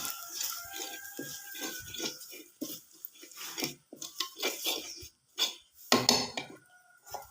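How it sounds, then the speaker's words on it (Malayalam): Spoon clinks and scrapes against a pan as chili, turmeric, coriander and fenugreek powders are stirred into shallots, garlic and ginger; irregular close knocks and taps with quiet gaps between them. "മുളക് പൊടി മഞ്ഞൾപ്പൊടി മല്ലിപ്പൊടി ഉലുവപ്പൊടി ഇതെല്ലാം കൂടെ ചേർത്ത് ഇടുകയാണ് ഇളക്കി കൊടുക്കാം"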